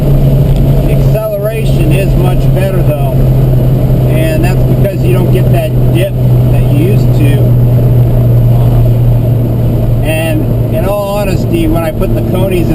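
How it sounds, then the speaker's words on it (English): A lowered Abarth car's engine drones from inside the cabin as it accelerates, a loud, steady low hum with rising pitch, running under a person talking throughout. "The acceleration is much better though"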